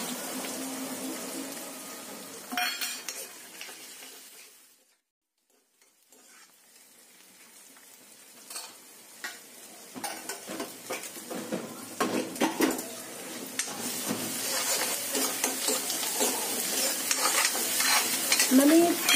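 Onions frying golden brown in a pan, a steady sizzle with spoon stirs and scrapes, briefly dropping to near silence midway before building back louder and busier.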